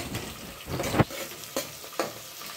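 Onion pieces frying in a pot for mutton dum biryani, with a steady sizzle broken by a few distinct scraping stirs of a spoon against the pot.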